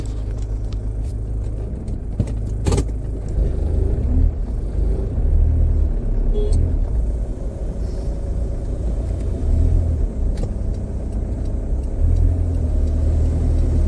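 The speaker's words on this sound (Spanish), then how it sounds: "Impresionante va a ser el tráfico ahora." Steady road traffic of cars rolls past along a riverside avenue, a continuous loud low rumble with passing engine swells and no talking.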